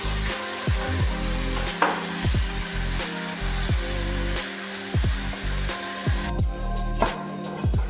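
Eggplant curry frying in a pan makes a steady close sizzle. Repeated stirring scrapes and clanks at irregular intervals, and there is no talking.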